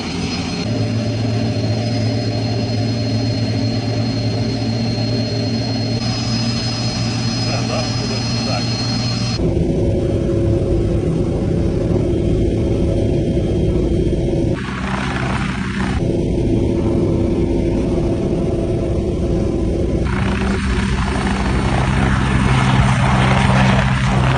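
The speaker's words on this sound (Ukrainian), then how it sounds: "Зараз гелікоптер стабілізується." A British military helicopter in flight, heard from inside the cabin: a loud, constant rotor and turbine roar fills the whole span, shifting in tone at times, with voices faintly mixed in.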